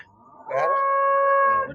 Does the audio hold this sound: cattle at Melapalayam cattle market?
yes